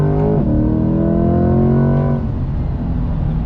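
A 2021 C8 Corvette accelerates hard in second gear, its engine note loud and close, climbing steadily in pitch over a couple of seconds, then easing off into a lower, rougher idle-like rumble.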